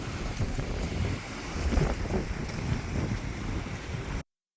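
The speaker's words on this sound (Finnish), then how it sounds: "Katsotaan paljonko tuulta toi yksilö tuo." Wind gusts roar against the microphone aboard a small sailboat crossing the Atlantic at sea, a steady broadband rush with water and hull noise beneath, swelling slightly mid-way before cutting off.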